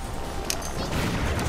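Laser fire in Super Smash Bros. Brawl, a dense burst of crackling game shots, fairly loud, with a sharp bright zap about a third of the way in over continuous rumbling action.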